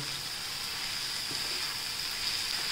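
Finely chopped vegetables frying in a pan while being stirred, giving a steady, close, even sizzling hiss throughout with no distinct stirring strokes and no voices.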